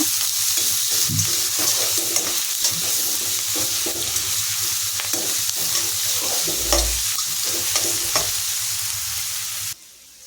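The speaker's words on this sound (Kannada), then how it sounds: "ಈಗ ಹಸಿರು ಮೆಣಸಿನ್ಕಾಯಿ ಜೊತೆಗೆ ಕರ್ಬೇವಿನ ಸೊಪ್ಪನ್ನು ಸೇರಿಸ್ತಾ ಇದ್ದೀನಿ ಇದನ್ನು ಸಹ ಚೆನ್ನಾಗಿ ಫ್ರೈ ಮಾಡೋಣ" Green chillies and curry leaves frying in oil in a pan, a loud, close, continuous sizzle punctuated by repeated clinks and scrapes of a spoon stirring, cutting off abruptly at the end.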